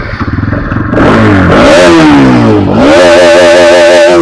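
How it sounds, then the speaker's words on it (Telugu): A 2023 Bajaj Pulsar NS200 motorcycle starts with a sputtering crank, then its engine catches and revs loudly, climbing and dropping twice before holding a steady, rough idle up close. "ఒకసారి బండి చార్జ్ చేసి చూపిస్తాను"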